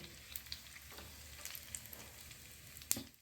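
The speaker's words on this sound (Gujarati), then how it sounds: "કડી પત્તા નાખી દઈએ, આ સૂકા મરચાં લાલ નાખી દઈએ અને અડધી ચમચી હિંગ નાખી દઈએ" Curry leaves, dried red chillies and asafoetida crackle in hot oil for a sambar tempering, a soft continuous sizzle with scattered sharp pops and a louder spit near the end.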